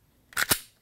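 A Glock 43 pistol fitted with a Double Diamond 3.5 lb connector gives a trigger reset: two quick, sharp metallic clicks close together, crisp and fairly loud, with no talk.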